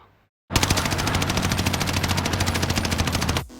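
Volk rifle in a console shooter game firing one unbroken full-auto burst of about three seconds, a rapid, evenly paced stream of loud, close shots that starts and stops abruptly after a brief silence.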